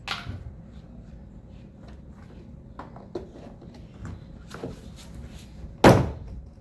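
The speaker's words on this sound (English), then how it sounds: "Insert a trim tool between the panel and the metal door frame and pull it towards you to release the clips." A trim tool pries a Kia Sportage door panel off its metal frame, releasing the retaining clips: scattered small clicks and scrapes build to one loud sharp pop near the end, close and alone.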